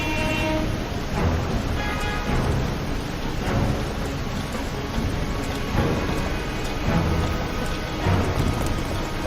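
A subway train in Heavy Rain rumbles past with a heavy continuous roar, rhythmic wheel clatter recurring every couple of seconds, loud and close.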